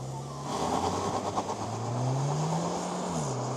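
A 2025 Jaecoo J7's engine revs and climbs in pitch as it accelerates hard from a launch, fairly quiet and steady, with no voices.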